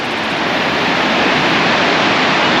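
Hurricane Falls, a waterfall on a Georgia/North Carolina trail, roars as a steady, dense rush of falling water, loud and close, unbroken and alone without any voices.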